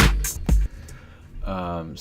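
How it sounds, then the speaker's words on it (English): Techno chords built from Ableton's Resonator over a couple of drum hits: sharp percussive thumps open the bar, then a resonant, ringing chord swells near the end, all loud and close. "techno chords just using Ableton's Resonator and a couple good drum hits"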